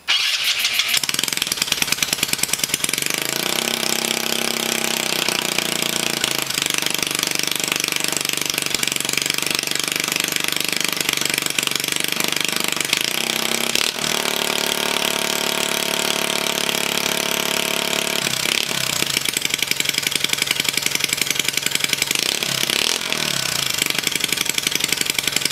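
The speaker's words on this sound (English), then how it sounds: "give the starter a tap" A GY6 scooter engine fitted with an Ecotrons EFI kit cranks on the starter, catches and settles into a steady, loud, close idle that runs on throughout, with a few brief revs along the way.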